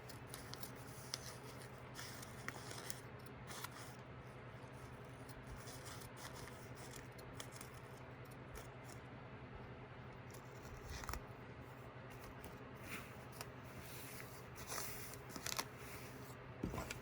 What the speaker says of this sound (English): I'm going to cut them, the extra off here